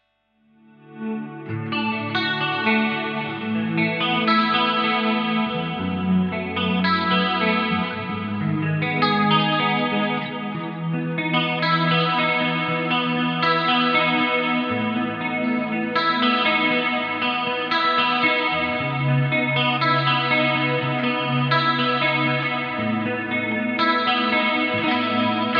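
Electric guitar played through an effects rack on a clean channel in stereo, with chorus-rich, echoing chords ringing out steadily and sustained for the whole stretch, alone with no talking.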